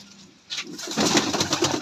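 A pigeon gives a short, close cooing call after a brief quiet moment, rising into a soft burbling phrase.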